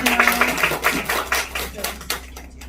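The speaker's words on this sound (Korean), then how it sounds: "박수 한번 부탁드릴게요." An audience at a business presentation claps in a close, lively burst of many hands, with irregular sharp slaps carrying on steadily for a couple of seconds.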